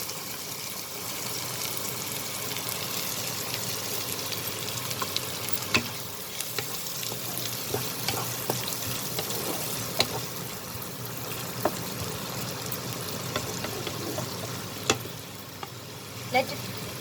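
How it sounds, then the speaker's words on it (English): Chopped onions saute in hot oil with a steady sizzling hiss, close and moderately quiet, broken by occasional sharp clicks of stirring throughout. "now I'm going to add the chopped onions. We'll saute this till it changes its color"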